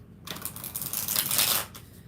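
Tarot cards shuffled close up, giving a dry, papery riffling and rustling that builds to a dense burst before easing off, with no voices.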